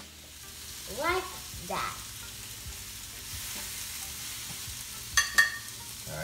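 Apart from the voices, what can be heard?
butter bubbling and sizzling in a pan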